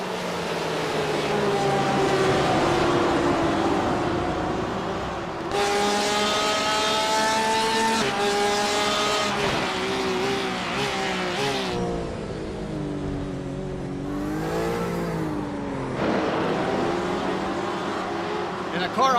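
Sim-racing cars starting a race at Hockenheimring in Germany, engines droning and rising in pitch as a pack accelerates away, whining gear changes and cars passing, with a commentator talking over the whole field.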